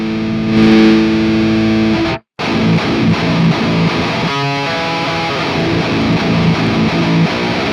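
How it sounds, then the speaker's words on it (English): A heavily distorted electric guitar played through a tube screamer pedal, chugging chords and sustained notes with a brief dead-silent break partway, loud and close with no talking. "we might be able to get the distortion from a tube screamer"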